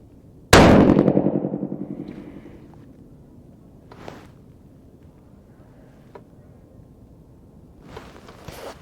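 A single loud 6mm Creedmoor rifle shot, loaded with 109 gr Berger bullets over H4350 powder, cracks sharply up close and rings off over a few seconds, followed by faint knocks and shuffling.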